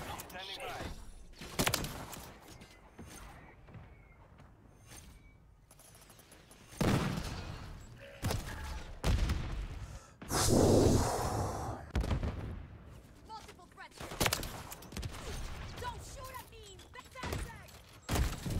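Video game gunfire crackles in scattered bursts, with a dense volley near the middle, mixed among players chatting over voice comms.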